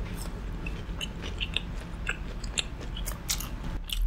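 Close, crunchy biting and chewing of truffle-flavoured fried pork at an outdoor mukbang, with repeated crisp crunches and wet mastication sounds at an irregular pace.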